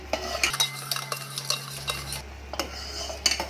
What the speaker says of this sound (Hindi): और कड़छी लगातार चला के शक्कर को अच्छी तरह से डिज़ोल्व करेंगे।